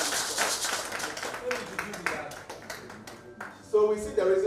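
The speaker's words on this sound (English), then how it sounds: "Can we clap for Betpawa?" An audience at a Ghana Football Association event announcing Betpawa as headline sponsor breaks into a spread of scattered clapping, moderately loud, which fades as a voice comes in near the end.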